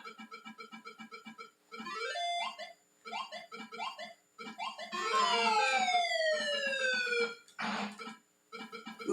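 Kangaroo on the Atari 5200 gives out chirpy electronic game sounds: rapid repeating blips, rising and falling sweeping tones, and a short noisy burst near the end, all synthetic and fairly loud with short pauses between.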